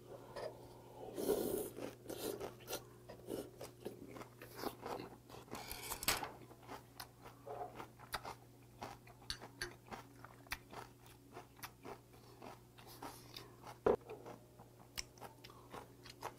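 Raw damselfish sashimi from Jeju, eaten with doenjang, chewed and crunched up close. The soft, wet bites come in irregular bursts, quiet and unhurried, with no talking.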